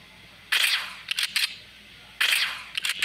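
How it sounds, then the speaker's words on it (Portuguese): Two loud, crisp long-range gunshots ring out in the video game American Marksman, each followed by a few quicker, lighter cracks, with brief quiet between. "Vamos ver se ela dá tiro de longe também."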